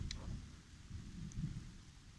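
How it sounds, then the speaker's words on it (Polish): Low, faint thunder rumbles in the distance under a stormy sky while light rain has just started falling outdoors, with no voices. "Nie wiem czy słychać, ale grzmi."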